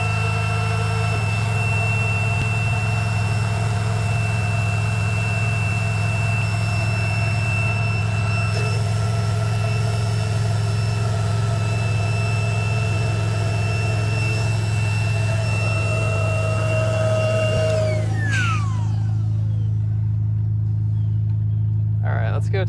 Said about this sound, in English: Let's go turn the car off here.